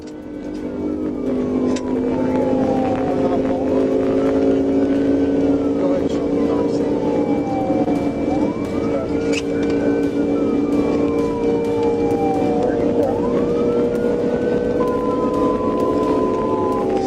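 Police car siren sweeping up and down while a trooper chases a speeding motorcycle through Georgia traffic, loud and continuous over steady road and engine noise, with repeated wailing rises and falls across the whole stretch.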